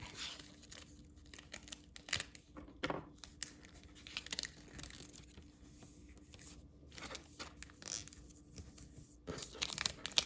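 Paper pieces of a notebook cover being folded, heard as soft, quiet crinkles and creasing rustles scattered irregularly over a low background hum.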